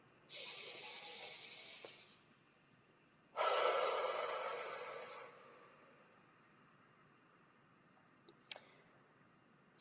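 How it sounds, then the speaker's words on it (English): Two long, deep breaths sound close to the microphone during a calming emotional-release exercise. A slow airy inhale is followed by a fuller exhale, then quiet with a couple of faint clicks. "deep breath"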